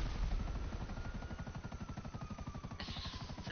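A helicopter taking off in GTA 5 Online, its rotor throbbing in a steady fast pulse close by, with the engine whine slowly rising in pitch, no talk.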